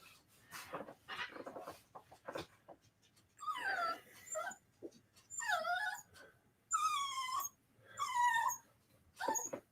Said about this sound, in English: I put you down, and all you do is whimper.